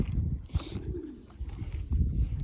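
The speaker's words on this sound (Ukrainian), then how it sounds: "Хочу показати ось цього голуба." A pigeon cooing close by, a soft rolling low coo rising and falling over about a second, with rustling and faint background noise around it.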